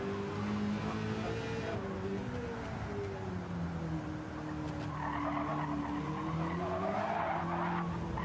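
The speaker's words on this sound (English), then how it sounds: "Sounds like he's got the OG gearbox in it too." A car with its original gearbox drives past, its engine note rising and falling through gear changes, faint and somewhat distant, with a short tire squeal and some background noise.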